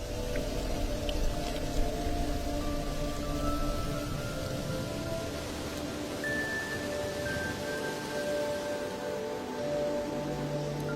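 Steady heavy rain pours down over the Maasai Mara during the wet season, a dense continuous hiss with faint whistling tones drifting over it and no voices.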